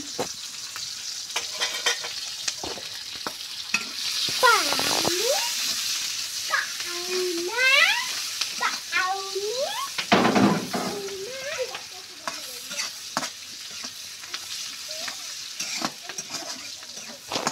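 Onions, garlic, green chillies and bay leaves fry and sizzle in a pan while a spatula stirs and scrapes them with steady clattering strokes; a continuous close hiss runs throughout, and no one speaks.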